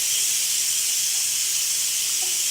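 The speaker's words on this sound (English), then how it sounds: "We'll release the steam." A Darius Cooks pressure cooker vents steam in a loud, steady, close hiss that holds evenly for a couple of seconds with no talking.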